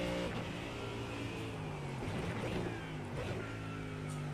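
Race car engine in the iRacing sim at Sebring during a 12 Hour event, droning steadily with layered harmonic tones that waver slightly in pitch, held close and continuous throughout.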